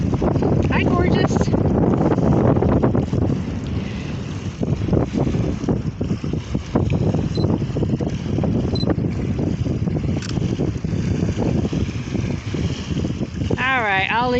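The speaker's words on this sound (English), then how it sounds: "Like the wind is just so strong, right?" Strong wind gusting across the microphone on the beach at Fort Flagler, a loud steady roar with low rumbling buffets that persists throughout, with a faint voice briefly audible beneath it.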